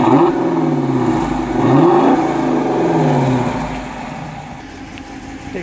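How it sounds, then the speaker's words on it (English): A 2011 Dodge Challenger R/T engine revs in two rising and falling swells, its exhaust roaring up loudly and then settling back toward a smooth idle. "rev it up a little"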